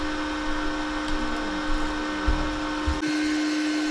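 VEVOR 210 amp IGBT inverter TIG welder running at 60 amps on thin metal, a steady electrical hum with a constant buzzing tone that holds throughout, a few soft bumps along the way, no talking.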